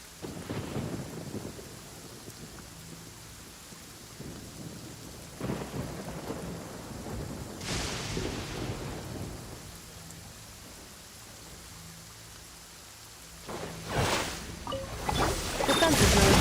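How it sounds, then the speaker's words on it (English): A thunderstorm in the Genshin Impact game world: steady rain patters throughout while several deep rumbles and cracks of thunder roll in, the loudest near the end, with no talking. "really gonna go flying in this weather? You think you can outrun a lightning strike?"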